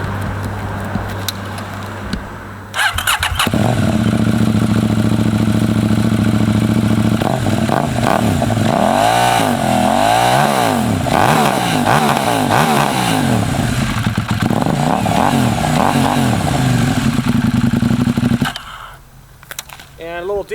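KTM Duke 390 and Duke 790 motorcycle engines idling, then revving loudly in repeated rising and falling blips, close by, with a brief burst of speech partway through.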